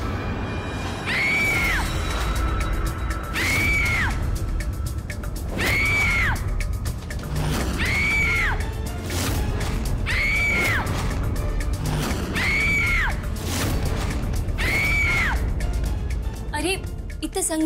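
A mobile phone rings with a ringtone that sounds like screaming, giving loud, evenly spaced shrieking wails repeated about every two seconds over a dense, noisy dramatic backdrop.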